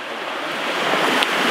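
Small waves break steadily along the shore at Rozewie on the Polish coast on a misty day, giving a continuous close wash of surf with no voices.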